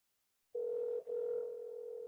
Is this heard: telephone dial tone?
yes